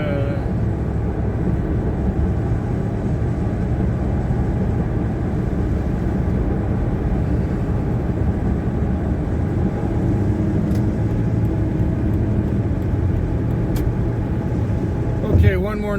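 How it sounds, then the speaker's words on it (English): A taxi driving through morning rush hour traffic gives a steady, loud low engine and road rumble from inside the cab, continuous throughout with no talk. "And now I'm in morning rush hour traffic, trying to get back to town."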